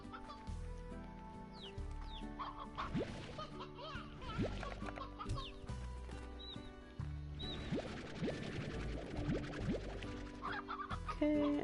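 Chickens cluck in a coop in the Slime Rancher video game, with layered hen calls and chirps repeating over a continuous game soundtrack.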